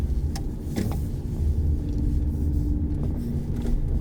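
A car on a driving lesson rumbles along with a low, steady engine drone and road noise, close and continuous, with no one speaking.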